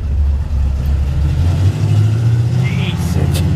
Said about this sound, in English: Check out the friggin' hot rod,